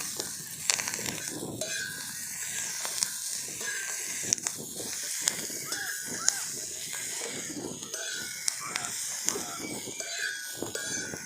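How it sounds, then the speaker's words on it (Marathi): Dense hissing sizzle of green chillies roasting in oil on a hot iron griddle, steady and close, dotted with small pops and crackles. "आता तेल टाकून भाजून घेऊ खमंग खमंग भाजून घ्यायचा मस्त पाहिजे शिवाय आपला लोखंडाचा तवा आहे"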